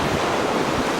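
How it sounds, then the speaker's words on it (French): Wind and sea rushing past a sailboat running downwind in rolling swell, a loud, steady broadband roar with no breaks and no voices. "Le vent est arrière et il y a du roulis."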